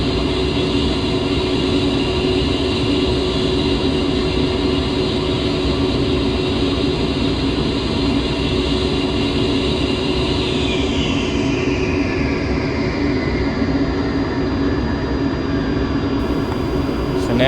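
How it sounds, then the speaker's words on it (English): Twin turbofan engines of an A-10C in a DCS flight simulator, running steadily after a cold startup: a continuous loud whine and roar, with a high tone sliding down partway through as the engines settle. "So now we have the engines up and running."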